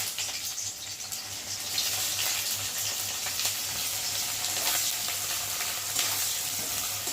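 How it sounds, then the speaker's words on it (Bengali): Onions sizzle and fry briskly in a hot kadai while fish curry is being cooked, a loud, continuous crackling hiss with small bubbling pops throughout and no talking. "এখন আমি পেঁয়াজগুলো দিয়ে ভালো করে ভাজবো"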